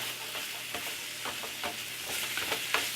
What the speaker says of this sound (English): What we're going for now is browning the meat.